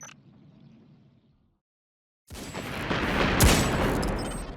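Ether tanks explode on a rooftop in the video game Destiny 2, a sudden loud blast after near silence, then a sustained roaring rumble of fire and debris with a sharp crack partway through.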